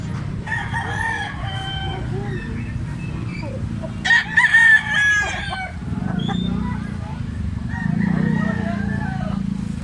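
A black hennie fighting rooster crows loudly nearby, with one clear cock-a-doodle-doo in the middle and other rooster calls around it, over a steady low rumble of background noise.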